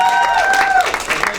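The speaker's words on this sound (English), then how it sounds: "So one more round of applause for everyone." High school poetry slam audience breaks into a brief, dense burst of applause and cheering, with a couple of high whistles over the clapping.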